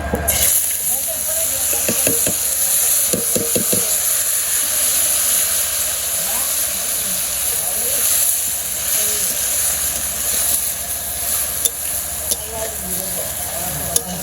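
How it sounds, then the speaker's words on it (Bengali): Potatoes frying in a pan in a village kitchen: a continuous loud sizzle and hiss with a few clicks and clatters early on, with faint voices in the background. "আলু ভাজি করব অনেকদিন পর আলু ভাজি"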